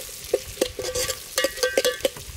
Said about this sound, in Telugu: ఉల్లిగడ్డ వేసుకొని కలబెట్టుకొని కొంచెం గోల్డ్ కలర్ వచ్చేదాకా వేపుకోవాలి